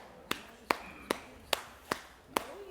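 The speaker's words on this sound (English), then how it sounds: "So you could tap your knee." Six sharp taps on a knee, evenly spaced about every half second, close and fairly crisp against a quiet background.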